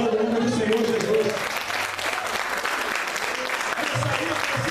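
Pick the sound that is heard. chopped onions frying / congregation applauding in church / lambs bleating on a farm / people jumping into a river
congregation applauding in church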